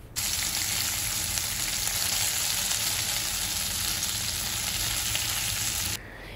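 Marinated chicken and prawns frying in oil in a pan, giving a loud, continuous, close-up sizzle that cuts off abruptly near the end.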